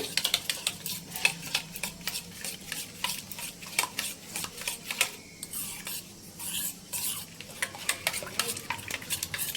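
A spoon stirring milk powder into cooled milk for misti doi, with rapid rhythmic scraping strokes against the bowl, close and steady throughout.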